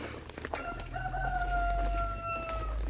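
A rooster crows once in a long drawn-out call at moderate distance, with faint rustling and outdoor background around it.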